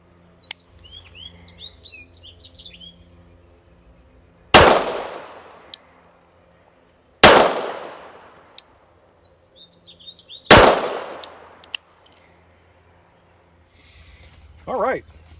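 Three sharp, loud pistol shots from a Tisas Raider fired at 25 yards, spaced a few seconds apart, each with a brief echoing tail, while birds chirp faintly between them.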